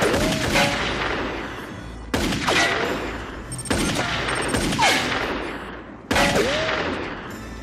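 Heavy gunfire from the 1995 film Digital Man as a sheriff shoots, four loud sustained bursts of rapid shots, each ending in a decaying rumble, with no talk over them.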